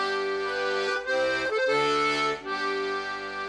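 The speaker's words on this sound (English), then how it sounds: "its proper title's a melodeon" A melodeon, a small button accordion, plays a sustained reedy chord and melody with dense buzzing harmonics. It sounds near and fairly loud, with brief dips as the bellows change direction, and no voice is heard.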